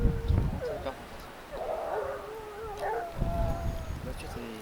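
Griffon and small Gascon Saintongeois hounds bay and howl at a distance during a wild boar hunt, drawn-out overlapping cries rising and falling with a few short yips over outdoor background noise.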